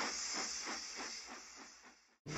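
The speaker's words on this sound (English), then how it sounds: "Gordon was uncoupled and with enough steam, Gordon puffed out of the way." A cartoon steam locomotive lets off a loud, continuous hiss of steam with rhythmic puffing chuffs beneath it, ending in an abrupt cutoff.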